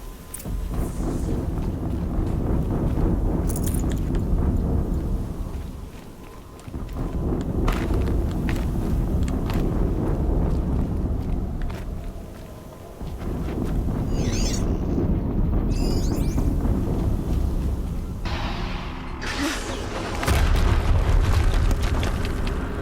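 Game explosions in Horizon Zero Dawn, loud rumbling booms that swell and fade in several waves over a dense, continuous backdrop of battle noise, with no talking.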